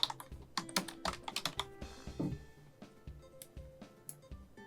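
Keys clatter on a computer keyboard as a word is typed into a text tool, a quick burst of close, crisp clicks followed by a few slower, scattered taps, with no one talking.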